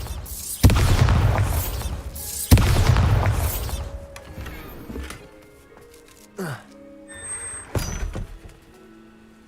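Two loud Bombarda explosion blasts boom in Hogwarts Legacy, each a heavy thump with a rumbling tail, followed by quieter clattering game sounds and brief musical tones.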